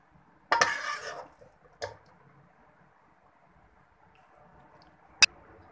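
Cooked green chilli keema scraped from a pan into a dish: a clattering metal-on-metal scrape and wet shuffle at the start, a brief knock after, then a single sharp clink near the end, close and quiet with no talk.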